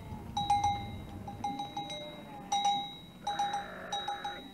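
Sheep, goats and a pair of cows in a remote, hard-to-reach mountain village, heard as repeated clear bell-like tinkling rings with soft bleat-like calls, moderately close and steady.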